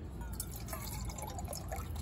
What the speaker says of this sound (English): Pour the water in here to make sure we got exactly 8 ounces.